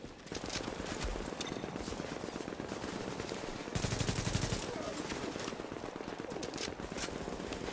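Rapid automatic turret fire rattles on continuously in The Division's Dark Zone, a dense, fairly faint stream of shots with a louder burst partway through, while players talk quietly beneath it.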